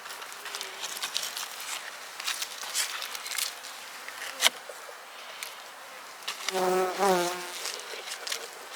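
Honey bees buzz steadily around a hive being readied for a snow and ice storm, a dense insect drone with a brief louder, closer buzz near the end and a few soft handling knocks.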